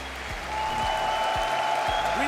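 An arena crowd at the Rocket League World Championship group stage applauds and cheers for the team Vitality, a loud, sustained wash of clapping that swells and holds, with a few tonal sweeps and effects underneath.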